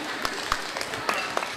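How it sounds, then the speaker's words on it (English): Applause for participants at a school event, a moderate patter of clapping from an audience with a few sharper individual claps standing out, steady and fairly close. "A wide round of applause and thanks to all participants who made this event a noteworthy one."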